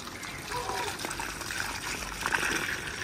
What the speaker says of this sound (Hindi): हाँ पानी डाल दो।